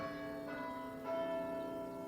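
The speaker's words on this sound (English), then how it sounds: "In summertime on Bredon, the bells they sound so clear." Church bells ring out from steeples on a summer day on Bredon Hill, their sustained, overlapping tones holding steadily at moderate loudness throughout with no voices.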